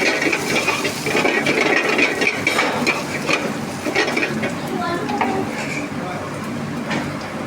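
Chopped garlic fries with cumin and dried red chillies in a pan, a close, busy sizzle with scraping stirs and light clatters throughout.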